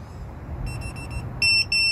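A VIFLY Beacon mini wireless drone buzzer, tested outdoors in a field, sounds a series of short piercing beeps, first faint and distant, then two loud, close bursts over a low background rumble.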